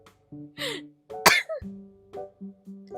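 A sharp, harsh cough bursts out once, surrounded by short throaty vocal sounds and breaths, close and fairly loud.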